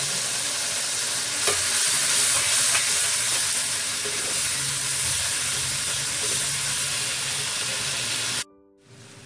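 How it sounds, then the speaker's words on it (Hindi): Spices fry for an egg curry as water goes in with coriander and cumin, producing a loud, continuous sizzle and hiss with faint stirring, until it cuts off abruptly near the end. "अभी इसको आप थोड़ा सा पानी दीजिए ताकि मसाले जल ना जाए बाकी धनिया और जीरा भी डाल दीजिए"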